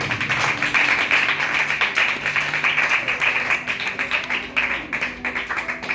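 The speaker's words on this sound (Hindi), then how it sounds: "जोरदार तालियां बजाएं।" Church congregation clapping loudly and steadily in a dense, continuous burst of many hands, with some background tapping and murmur.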